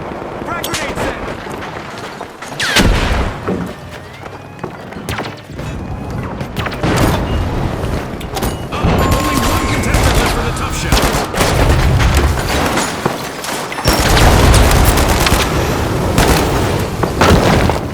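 Explosion from a frag grenade and bursts of gunfire in the video game THE FINALS, with dense, loud combat noise throughout and a commentator's voice over the action.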